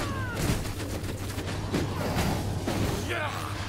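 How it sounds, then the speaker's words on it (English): Rapid video game gunfire crackles in dense bursts across the whole stretch, loud and close, mixed with other game noise. "He's shooting at him."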